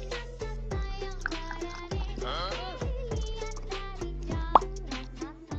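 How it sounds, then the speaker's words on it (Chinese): A Border Collie laps sparkling water from a container, producing a steady run of wet plopping slurps with splashes and fizzy bubbling, close and loud, with no talking. "当边牧第一次喝气泡水"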